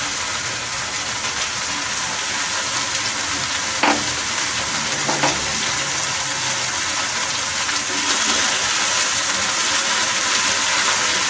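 Ginger, cinnamon, clove and cardamom spice paste with a little ground coriander sizzles steadily in hot oil, with a few soft scraping stirs partway through. No voices.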